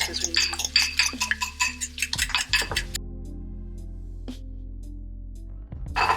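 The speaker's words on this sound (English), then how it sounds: "I'm gonna go ahead and whisk" A mixture seasoned with salt and black pepper is whisked briskly in a bowl, giving about three seconds of rapid rhythmic clinking and scraping strokes, then it stops, leaving near-silence broken by a couple of faint knocks.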